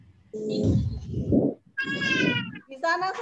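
A cat meows loudly and close by in two or three drawn-out, harmonic calls, with a voice talking in between.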